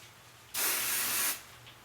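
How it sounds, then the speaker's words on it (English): Finishing hairspray hisses from an aerosol can onto a wrapped bridal updo in one steady burst of just under a second, close and loud, set against a quiet room. "use a little bit of finishing spray so everything will hold in place"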